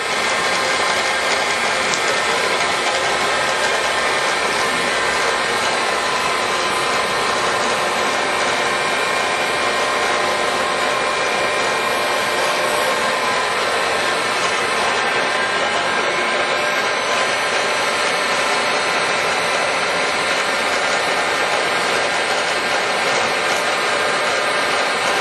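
A Bridgeport Series II heavy-duty vertical milling machine runs steadily at about 1200 RPM, a continuous loud mechanical whir with gear and drive hum that holds even and unbroken throughout, with no voices.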